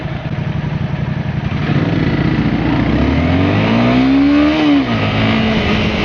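A motorbike passes close by, its engine rising in a loud rev and then dropping away, over a background of steady traffic noise.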